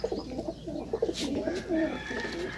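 Pigeons coo in a steady stream of low, throaty calls, close by and fairly loud, with several overlapping voices among a flock of birds kept for sale, including a red-eyed pigeon.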